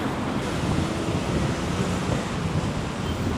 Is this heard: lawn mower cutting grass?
no